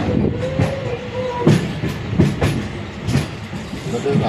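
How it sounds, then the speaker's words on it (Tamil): Amrit Bharat Express train rolling in toward Thanjavur Junction, a close, steady rumble with a clickety-clack of wheels over rail joints and periodic sharp knocks. "தஞ்சாவூர் சந்திப்பை நம்ம ரயில் நெருங்கி விட்டது பாருங்கள்."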